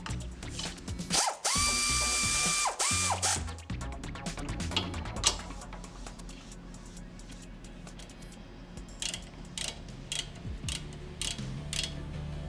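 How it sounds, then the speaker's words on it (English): Ratchet tightening the lower strut mounting bolts on a 2001 Toyota Camry during a Monroe Quick-Strut install, heard as loud rapid clicking bursts up close, followed by quieter intermittent clicks and metallic handling. "install and tighten the lower mounting bolts"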